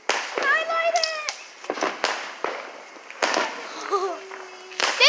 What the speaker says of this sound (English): this is a fire flyer.